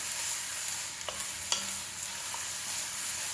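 Carrots and other vegetables sizzle steadily in a hot pan while being stirred, with a constant frying hiss and a few small scrapes and taps of the utensil, close and alone without talk.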